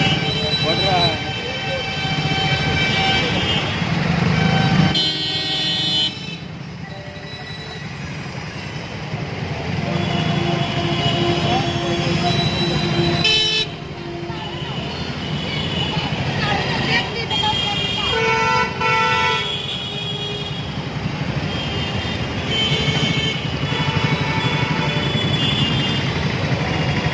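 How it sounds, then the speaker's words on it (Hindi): Dense road traffic on a busy ten-lane road in Bihar with an under-construction area nearby, a steady roar of engines and motorcycles, repeated car horns honking throughout, and someone talking over the noise. "ये ट्रैफिक काफ़ी रहता है यहाँ पर"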